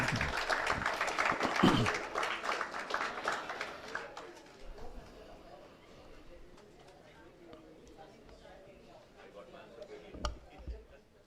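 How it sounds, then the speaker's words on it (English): An audience in a hall applauds a senior alumnus at a memorial lecture, a burst of clapping that peaks early and then thins to scattered claps beneath a speaker's voice. "Big round of applause"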